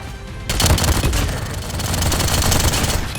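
An assault rifle fires in a video game, a dense, rapid stream of loud cracking shots that starts abruptly after a brief quiet moment and keeps going without pause.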